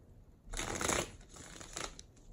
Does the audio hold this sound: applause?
no